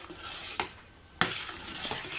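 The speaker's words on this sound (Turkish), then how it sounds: "Şöyle bir karıştıralım." A spoon stirs a pot of Ezogelin lentil soup finished with butter, giving two sharp scraping knocks against the pot with soft bubbling between, close and fairly quiet, no voices.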